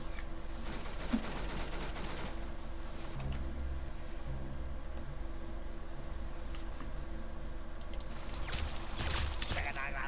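Pistol gunfire in the Roblox game Arsenal: faint, scattered sharp shots with a few quick bursts near the start and again toward the end, over a low background hum.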